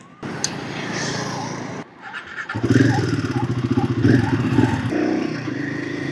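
A Royal Enfield Himalayan 450 motorcycle with a liquid-cooled 451 cc single-cylinder engine idles and then revs up, a throaty pulsing thump growing louder and rougher as it pulls away close by.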